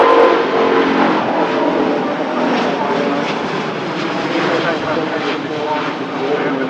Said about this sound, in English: our next departure, Singapore A350.